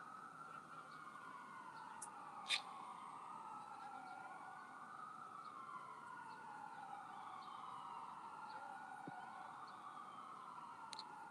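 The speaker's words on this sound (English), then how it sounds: "Sorry, waiting for the ambulance to go by." An ambulance siren wails, sweeping up and down continuously at moderate distance as it passes, steady and unbroken, with faint traffic hum underneath.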